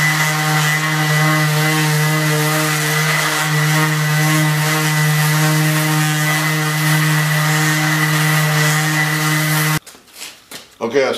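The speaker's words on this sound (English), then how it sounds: "I'm going to take an orbital sander. I'm going to use 120 grit on it right now." An orbital sander with 120 grit paper sands a wood inlay surface covered in moist glue, its steady, loud hum running unbroken for about ten seconds before it stops with a few knocks.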